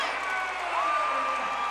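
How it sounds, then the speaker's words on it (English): Crowd noise at a Wichita State versus East Carolina college volleyball match, a moderate, steady rumble of cheering as fans rise during a rally, with a faint whistle-like tone running through it. "Crowd rises to its feet in the hopes of Wichita State finally putting away the Pirates"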